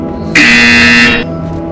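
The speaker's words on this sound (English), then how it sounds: "When you hear the buzzer, engage your atrophied neck muscles and look up at the ceiling" One loud, harsh electronic buzzer blares steadily for about a second, then cuts off against a quiet humming background.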